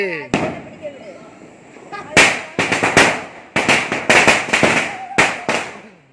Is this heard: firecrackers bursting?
yes